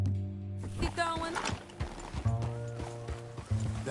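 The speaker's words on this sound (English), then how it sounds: "That a new horse?" Horse hooves clip-clop in Red Dead Redemption 2, a steady run of hoof beats under music and game sounds, with voices talking over parts of it.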